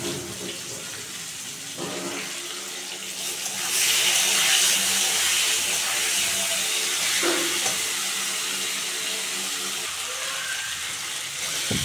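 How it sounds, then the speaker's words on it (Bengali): Green bananas, coated in salt and turmeric, fry in hot oil for a fish curry. A steady, close, broadband sizzle swells louder partway through and then hisses on with small crackles and a few faint clinks. "কলা দেখতে পাচ্ছ ভাজা ভাজা হয়ে গেছে"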